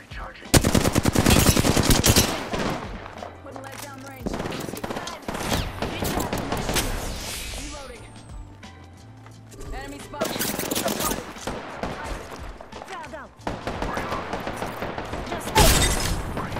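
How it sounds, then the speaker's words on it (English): Rapid automatic gunfire and bursts of shots from the video game Apex Legends, loud and dense in clusters with brief lulls, mixed with game effects and some voices underneath. "Taking fire."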